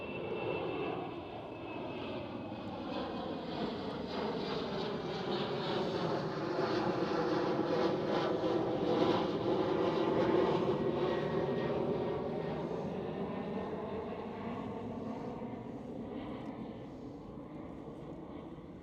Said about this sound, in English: Another KLM Cityhopper, this time E190.